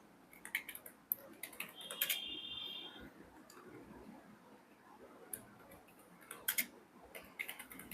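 Typing on a computer keyboard while entering a search in Canva: irregular bursts of close, light key clicks, with short pauses between bursts.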